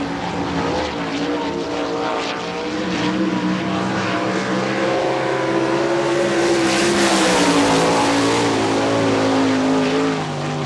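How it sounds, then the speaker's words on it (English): A sprint race car laps a dirt track at an All Star Circuit of Champions Ohio Speedweek event in Hartford, Ohio, its engine a loud, steady high-pitched roar with rising and falling pitch as it works around the oval, heard alone. "right now working the track in that 95, Jamie McKinney"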